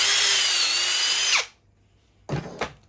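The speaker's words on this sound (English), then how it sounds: "Drill it back out again." A power drill whines steadily under load while building a 12V power box, then cuts off sharply, followed by a brief rattling handling noise.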